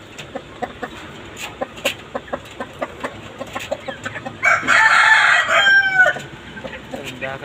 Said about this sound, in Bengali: মুরগিগুলো সকাল সকাল ডাকাটাই করতেছে